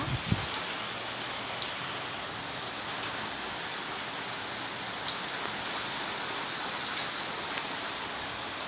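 Steady, heavy rain hisses evenly over trees, with occasional louder drops and drips standing out from the constant wash.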